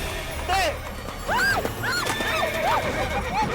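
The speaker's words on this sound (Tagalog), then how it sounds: "Nagwala yung kabayo eh." A horse neighs repeatedly while running wild, loud whinnies rising and falling close by amid clattering and thumps, with people shouting and talking over it.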